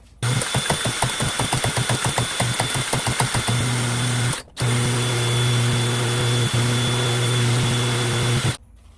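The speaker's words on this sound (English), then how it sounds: "I'm gonna use this wire brush just to clean off some of the sealant" A cordless drill revs in quick pulses, then runs steadily with a wire brush whirring and scraping sealant off a surface, stopping twice.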